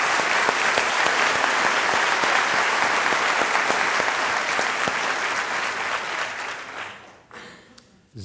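Audience applause for volunteer nurses at UTMB in Texas, a dense, loud burst of clapping that holds steady and then fades out near the end.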